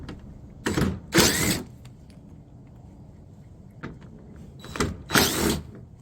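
A ratchet works on 10 mm bolts on a 2002 Toyota MR2, giving two short bursts of rapid clicking, a pause, then two more bursts, close and fairly quiet with no talk.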